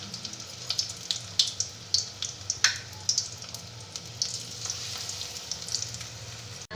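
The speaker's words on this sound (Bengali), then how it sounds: "এইভাবে আমি মাছগুলোকে ভেজে নিচ্ছি" Bata fish fry in hot oil in a pan, giving a steady sizzling hiss dotted with frequent sharp spits and pops, close and continuous throughout.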